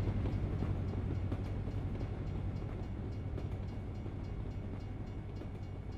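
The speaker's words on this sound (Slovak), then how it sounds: "Nákladný vlak, super. Preváža veľké kontajnery." Freight train hauling large containers and timber past a level crossing in American Truck Simulator, a loud, steady rumbling roll of railcars with faint rhythmic clatter, continuous and close throughout.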